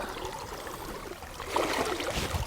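Fast-flowing stream water rushes steadily through a river run while fly fishing in late summer, with a continuous broadband wash that grows slightly louder and fuller midway.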